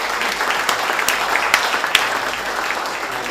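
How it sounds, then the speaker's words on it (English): Audience applauds steadily in a hall for Cullen Wines, a dense, even wash of clapping with a few sharp individual claps standing out, no voices over it. "big round of applause for Cullen Wines"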